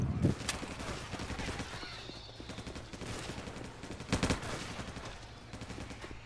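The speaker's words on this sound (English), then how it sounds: "I just shot the smoker's tongue to free you with my sniper rifle." Sniper rifle and other gunfire in the zombie shooter Left 4 Dead 2, sharp bursts opening the clip and another cluster near the end over a busy game background of ambient noise and faint voices.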